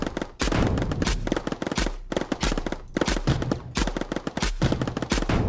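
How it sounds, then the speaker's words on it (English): Rapid cannon fire in the pixel-physics game Noita, a loud relentless barrage of booming shots and blasts in fast bursts with short gaps between volleys. "we actually see a cannon working this time"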